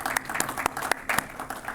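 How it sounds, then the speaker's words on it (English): An audience at a Casey Canal Phase 2 drainage project meeting breaks into steady applause, many hands clapping together in a dense, continuous patter that holds at a moderate level for its full length. "Come on, give it a round of applause."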